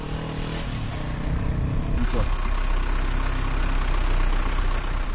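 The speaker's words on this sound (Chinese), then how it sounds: "又骑上摩托走了，我们的车子紧紧跟在他的后面" A motorcycle and a car drive across the desert in camel country, giving a steady, continuous engine rumble that stays loud and even throughout with no clear breaks.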